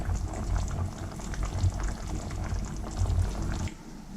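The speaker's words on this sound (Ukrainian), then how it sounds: "Прикрию кришкою та протушкую хвилин 5-10." Swedish meatballs simmer in sauce in a pan, giving a steady, close bubbling and popping texture with a constant low rumble that eases slightly near the end.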